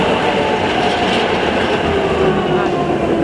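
A tram rumbles past close by in Budapest, a steady rolling roar of wheels on rails with faint rattling, no voices over it.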